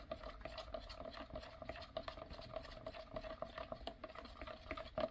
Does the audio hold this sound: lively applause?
no